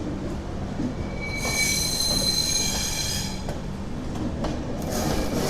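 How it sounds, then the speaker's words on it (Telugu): The 12622 Tamil Nadu Express pulling into Vijayawada Junction, its wheels letting out loud, high, sustained squeals over a rumbling, clattering roll, with the squealing swelling and fading in bursts close by. "మన ట్రైన్ వచ్చేసి విజయవాడ జంక్షన్కి అయితే రీచ్ అయింది."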